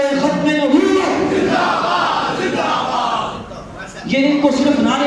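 A large crowd at a religious gathering chanting religious slogans in unison, loud and forceful, in two surging bursts with a brief dip between them.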